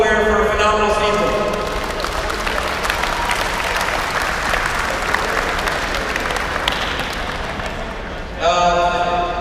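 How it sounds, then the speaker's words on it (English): Audience at the Sport Corner Siam Hockey League second-season finals bursts into a dense, sustained round of applause for the hockey team Aware, filling the room for several seconds, with someone speaking just before and as the clapping fades. "I want to give a big round of applause to Aware for a phenomenal season."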